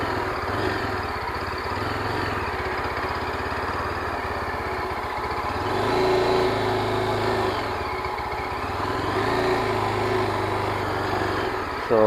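A Yezdi Adventure motorcycle engine runs steadily at low speed during slow riding practice, a continuous close drone that swells slightly in the second half.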